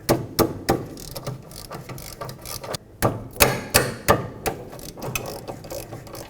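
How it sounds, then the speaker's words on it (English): Ratchet working on the 13mm caliper bracket bolts of a 2005-2010 Pontiac G6's rear brakes, a series of sharp clicking pulls in bursts, close and crisp, with short pauses between strokes. "now we can undo the two 13mm bolts that connect the caliper bracket to the knuckle"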